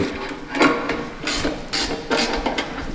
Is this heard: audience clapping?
no